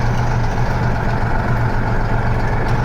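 MAZ truck carrying a load of seed, its heavy diesel engine droning steadily and loudly with a constant low hum throughout.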